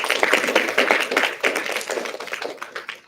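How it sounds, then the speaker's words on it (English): An audience at a patasala event claps together in a dense, steady burst of applause that lasts a few seconds before thinning out. "Please give a big round of applause"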